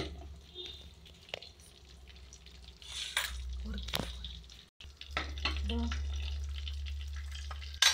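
Curry leaves sizzling in hot oil while making matka paneer, a steady frying hiss with occasional stirring clinks, close and moderately loud, briefly cut off midway before resuming.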